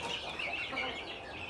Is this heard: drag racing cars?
no